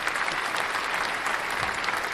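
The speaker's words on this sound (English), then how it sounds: "A round of applause for you all." Steady, full applause rises from a crowd gathered for an Africa Day livestream event, a continuous wash of many hands clapping at even intensity with no voices on top.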